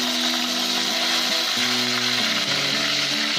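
Hot oil sizzles and crackles loudly and steadily as mustard seeds sputter, still damp from washing, with a low droning tone running underneath.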